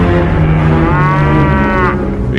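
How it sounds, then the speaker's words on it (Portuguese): Oxen lowing as a sound effect in a narrated Bible reading, one long loud close moo that rises and then trails off, with no voices over it. "os bois tropeçaram"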